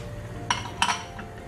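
A spoon stirs food in a cooking pot of simmering chicken with bay leaf and tomato paste, giving a few brief clinks and scrapes against the metal, close and fairly quiet with no talk.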